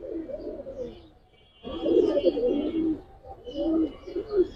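Giribaz and grizzle pigeons cooing steadily at close range, low throaty coos rising and falling in overlapping bursts with a short lull midway.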